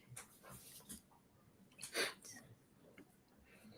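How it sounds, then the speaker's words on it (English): An excited dog makes snorting, sneezing and wheezing noises indoors, in scattered bursts with one sharper sound in the middle, fairly faint and close, with some background murmur. "if you hear a lot of noise, it's because my dog Bumble is going absolutely ham"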